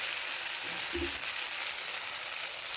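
Rice flour batter hits a hot oiled pan for gola roti, a steady broad sizzle that fills the whole moment, close and even, with a brief low clunk near the start.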